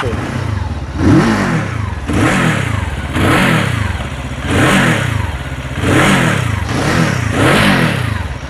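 A Lifan KP 350 motorcycle engine revs repeatedly, rising and falling in pitch in a steady rhythm of about six throttle bursts, loud and close.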